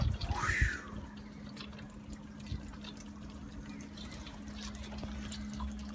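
Water drips and trickles from a balcony bonsai irrigation system, a soft close patter under a steady low hum, with a brief splashy burst at the start.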